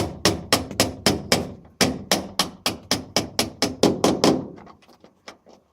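A bolt fitted with a sleeve is hammered through the hole of an aircraft rudder pedal under repair: a quick, even run of about fifteen sharp metallic taps close by, then a few lighter, fading taps.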